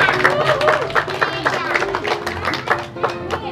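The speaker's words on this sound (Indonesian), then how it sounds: "Tepuk tangan" Children at an outdoor learning-and-play session with a clown clap together in a quick rhythmic burst, with voices talking over the claps throughout.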